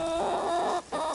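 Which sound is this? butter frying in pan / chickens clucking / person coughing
chickens clucking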